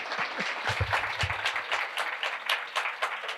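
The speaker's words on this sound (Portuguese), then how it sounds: "Salva de palmas para a Andressa Marques" Brief burst of audience applause at a talk event, a crowd clapping briskly and close, a few louder individual claps near the start, fading slightly by the end.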